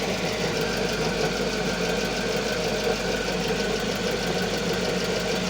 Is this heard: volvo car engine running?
yes